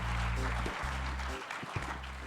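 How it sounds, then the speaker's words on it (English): Audience applause for sportswomen on stage at a women-in-leadership event, dense steady clapping over a low hum, quite faint. "A bigger applause for our sportswomen there."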